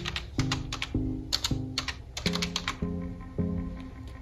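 Fast clicking keystrokes on a computer keyboard as boot commands are entered, in quick uneven bursts close to the mic with no talk.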